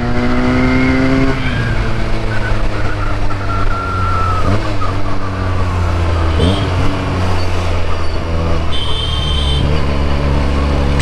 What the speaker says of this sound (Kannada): ಬುಲೆಟ್ ಅವನೊಬ್ಬನು ಬರ್ತಾವನ ಹಿಂದೆ, ಬಡ ಬಡ ಸೌಂಡ್ ಅದೇ ಐತೆ.